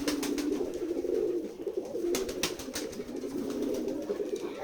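Several pigeons kept in a loft in a Jessore village coo continuously together, a low, throbbing chorus close by with occasional sharp clicks and wing sounds, no voices.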